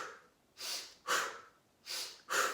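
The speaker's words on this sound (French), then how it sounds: "je vous propose de prendre une respiration plus courte et plus tonique" Four short, forceful breaths in a calming relaxation exercise, each a sharp burst of air with a brief pause between, close and clear with no talking.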